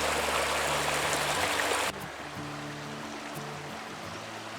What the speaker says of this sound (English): Once again, we're going across the creek.